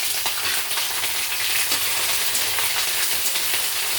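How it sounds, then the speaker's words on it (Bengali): Whole cumin seeds, ginger and green chili fry in hot oil, making a loud, dense, continuous sizzle and crackle close by with no pauses. "গোটা জিরে দিলাম, আদা কাঁচা লঙ্কা দিয়ে দিলাম। ভালো করে ভাজতে হবে,"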